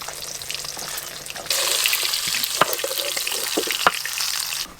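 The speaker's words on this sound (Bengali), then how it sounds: "এই যে লাল লাল করে ভেজেছি।" Fish pieces from a large fish fry crisp and red-brown in hot oil, a steady close sizzle that grows louder partway through, with occasional scrapes and taps from a spatula.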